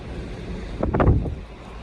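Strong wind gusts outdoors beside an International Harvester L-130 truck, roaring and buffeting the microphone, swelling into a louder rumbling gust midway before easing back.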